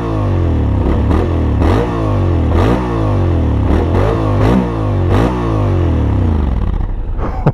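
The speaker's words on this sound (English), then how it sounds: "I want you to listen to this exhaust" Loud exhaust of a 2021 Honda X-ADV scooter with the standard exhaust can, revving repeatedly, engine pitch rising and falling in a series of throttle blips, close up with no voices.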